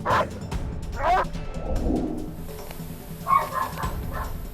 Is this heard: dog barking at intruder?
yes